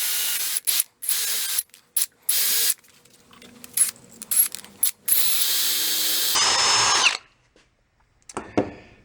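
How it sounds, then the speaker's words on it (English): A power drill boring into a golf cart engine part, running in several loud bursts of high whining spin separated by short pauses, with metallic clicks and a final longer run before stopping. "just kind of lean the drill a little bit till you get happy center"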